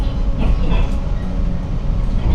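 A local train on a Yamaguchi line runs along the rails as it approaches a station, a loud, steady rumble with rattling carriage noise heard from inside the car.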